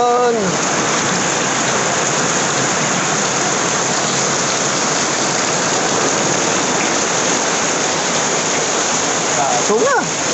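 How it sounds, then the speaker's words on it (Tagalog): Heavy rain pours steadily on a surface throughout, a loud, dense hiss close by, with a voice breaking in briefly near the end. "Ang lakas ng ulan."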